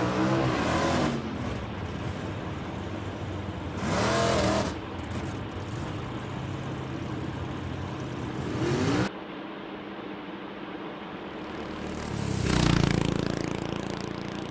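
Trucks and other vehicles driving along a Dhaka road, engines rumbling steadily with several louder pass-bys swelling up close, one near the start, another midway and a heavy one near the end.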